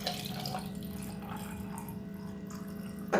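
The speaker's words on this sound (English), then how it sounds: "now I'm going to pour in my coffee" Coffee pours over ice in a glass as a continuous, soft liquid stream with gentle trickling, close and fairly quiet, ending with a brief louder splash at the end; no talk.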